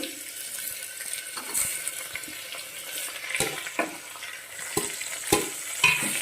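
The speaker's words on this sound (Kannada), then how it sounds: "ಇದನ್ನ ಫುಲ್ ಮೆತ್ತಗಾಗುವವರೆಗೆ ಟೊಮೆಟೊ ಉಳ್ಳಾಗಡ್ಡಿ ಅವೆಲ್ಲ ಮೆತ್ತಗಾಗುವವರೆಗೆ ಹುರ್ಕೋಬೇಕಾಗ್ತಿತ್ತು" Tomatoes and onions fry in a pan for tomato rice. A steady close sizzle runs under repeated scraping and stirring strokes with a spoon, and occasional sharp clinks ring against the pan. No one talks.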